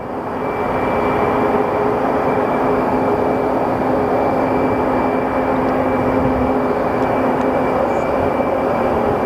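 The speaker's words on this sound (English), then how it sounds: "that is Frontier Airlines with their A321 that is popping in" A Frontier Airlines Airbus A321 arriving at Phoenix Sky Harbor Airport, heard as a steady, loud, continuous jet roar with a faint whine held throughout, no voices.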